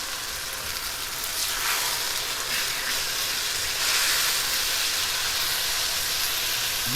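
Food sizzles loudly in a super hot wok, a dense steady hiss and crackle of frying that swells slightly midway, with no talking.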